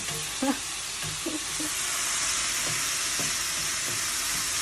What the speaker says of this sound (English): You just stir it around, still sizzling.